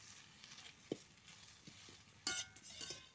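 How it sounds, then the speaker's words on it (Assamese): Neem leaves rustle and crackle as they dry-roast in a hot wok without oil, with a few sharp scrapes and clinks of a spatula stirring them, quiet overall. "নিমপাতখিনি প্ৰথমতে ইয়াক খালী কেৰাহীতে ভাজি লৈছোঁ তেল নেদাকে"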